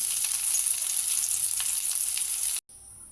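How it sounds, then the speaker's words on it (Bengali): Pieces of pointed gourd (potol) fry in hot oil, giving a loud, continuous sizzle with faint stirring crackles that cuts off abruptly near the end. "2-3 মিনিট ভেজে নেব পটলগুলোকে"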